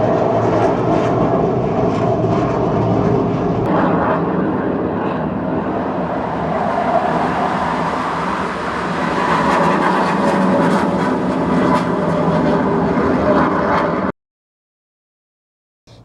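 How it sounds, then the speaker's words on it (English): A fixed-wing airplane passes overhead, a loud, steady broadband roar that swells and eases slightly before cutting off abruptly near the end, with no talking. "The plane is coming."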